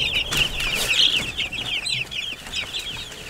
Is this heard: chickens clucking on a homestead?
yes